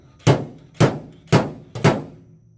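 Four heavy metallic-wooden thunks from a slide hammer dent puller working on a car body panel, evenly spaced about half a second apart, each loud and close with a quick decay, no voices.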